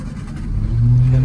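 A 1973 Triumph Spitfire 1500 engine rumbles low and climbs into a brief rev, its pitch rising and holding steady, close and fairly loud.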